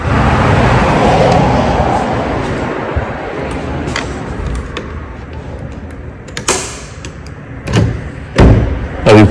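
A door is unlatched and swung open at home, with rustling handling, a couple of clicks and a dull thud near the end, heard alone over faint background traffic.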